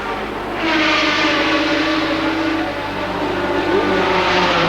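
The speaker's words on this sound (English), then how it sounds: "That is Jaguar number 4. So that car's still running well" Jaguar race car at Le Mans 1987 sweeping past, engine roar swelling sharply after a brief quieter start and holding loud and sustained with a high harmonic whine, no voices.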